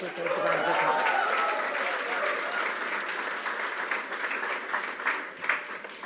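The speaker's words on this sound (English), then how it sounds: "That deserves a round of applause." Audience applause at a benefit gala, sustained clapping from a large crowd that stays loud and steady throughout, with a few voices mixed in.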